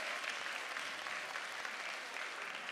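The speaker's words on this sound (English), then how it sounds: "Give Sasha a round of applause" Steady applause from a crowd, dense clapping that holds level throughout, heard from a little distance.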